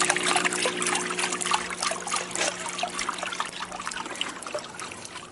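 Water trickles and dribbles continuously nearby, a soft splashing, babbling flow with irregular little spatters over a faint low hum, steady throughout.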